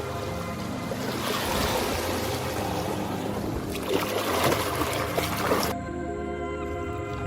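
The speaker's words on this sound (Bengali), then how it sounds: "নৌকা একা একা চলছে।" A boat moving on a river gives a continuous droning hum over a wash of water, steady and fairly close, then drops sharply quieter near the end.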